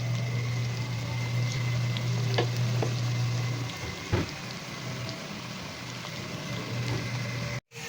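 Potatoes and carrots frying in oil give a steady, close sizzle with a few faint clinks, quieting briefly near the end.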